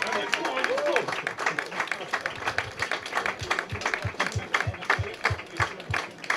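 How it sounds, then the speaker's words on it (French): An audience in a sports hall applauds an Olympic volleyball champion of the French team, steady rhythmic clapping throughout while someone speaks over a microphone. "Applaudissements, champion olympique."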